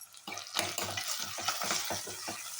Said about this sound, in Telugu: అలాగే కరివేపాకు వేసి ఒకసారి తిప్పుకుందాం.